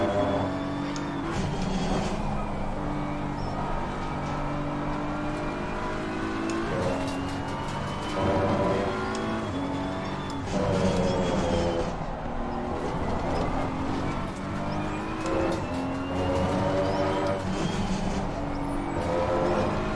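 Porsche and Honda race car engines howl and rev continuously in a racing video game, with rising and falling pitch as gears shift, loud and close throughout, with occasional tire noise.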